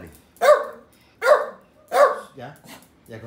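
Several puppies yapping in three sharp, evenly spaced barks close by, with softer whimpers and a voice talking in between.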